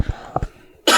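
A single sharp cough, preceded by a couple of short throat sounds, close and loud, followed by a burst of breathy noise.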